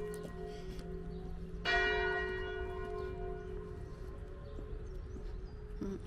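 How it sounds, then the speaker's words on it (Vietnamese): A church bell rings at eight in the morning, one clear, ringing strike whose resonant hum sustains and slowly decays over a quieter, earlier tone, heard at moderate distance outdoors. "đúng 8 giờ sáng cho nên là chuông nhà thờ đổ quá"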